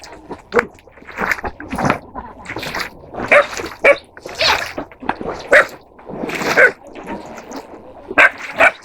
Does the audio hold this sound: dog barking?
yes